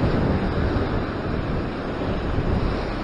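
Ocean swell washes and surges at a fishing spot in Sydney, a steady broadband roar of surf mixed with wind buffeting the microphone, loud and continuous with no voices.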